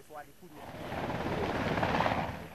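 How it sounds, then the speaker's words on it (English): An American helicopter over quake-hit Haiti, a low rumbling rotor drone that builds steadily toward close and loud, with a faint voice early on. "the sound of an American helicopter."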